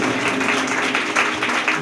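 A church congregation claps together at a pastor's service, a dense, steady patter of many hands that fills the whole clip at an even level with no voices.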